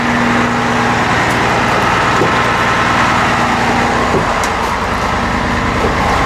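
A 2008 Hino 338 bucket truck with an Altec TA50MH boom runs its diesel engine, a loud, steady, close rumble that holds through the whole stretch without talk.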